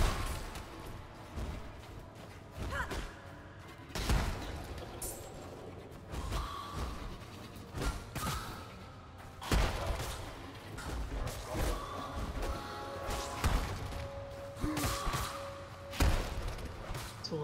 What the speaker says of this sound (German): Leichenexplosionen sind super.